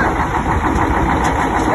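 A frozen cargo truck loaded with milk in cartons runs after a winter cold start in North Kazakhstan, following new batteries and engine heating. The engine gives a steady, loud, close idle, and a voice is heard with it.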